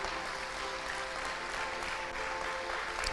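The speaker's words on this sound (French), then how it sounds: "Oui, vous avez raison de l'acclamer." Faint, dense applause from a church congregation acclaiming a proclaimed scripture, an even, continuous patter of many hands heard from a distance.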